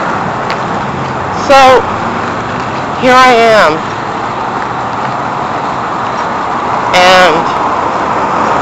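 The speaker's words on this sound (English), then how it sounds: "the traffic is just so noisy" Steady road traffic rumbles beside a parking lot, a continuous broadband roar with passing vehicles, while someone talks over it in short bursts.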